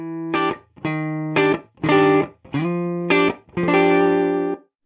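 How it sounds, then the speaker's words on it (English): Distorted electric guitar through a single simulated speaker cabinet in Guitar Rig 6 Pro plays a series of short, punchy chord stabs with gaps between them, ending on a longer held chord. "if we just had one speaker cabinet, it would sound like this."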